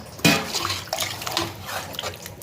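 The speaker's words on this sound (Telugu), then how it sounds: "ఇప్పుడు నేను ఎసరు పోస్తాను" Water splashes and pours into a metal pot of mutton for rice, starting with a sharp splash and continuing as an uneven gurgling stream, close up.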